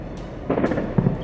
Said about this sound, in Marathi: आपण पाहतोय सांबा सेक्टरमध्ये स्फोटांचे आवाज येत आहेत